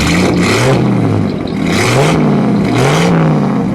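A 1937 Bugatti Type 57 roadster race car engine revs loud and close, its pitch rising and falling in several surging sweeps over a steady idle, with no talking.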